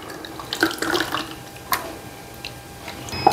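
Tap water runs into a sink while tamarind is soaked and squeezed for rasam in a home kitchen, a soft, steady splashing with a few brighter drips and clinks scattered through it.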